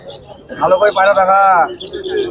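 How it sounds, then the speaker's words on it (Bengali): Murshidabadi pigeons coo close by in warm, throaty bursts while a person talks nearby at a pigeon market. "এগুলো হচ্ছে মুর্শিদাবাদি পায়রা"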